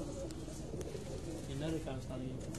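A record-holding pigeon coos on a rooftop in low, rolling bursts, fairly near and clear against steady background noise.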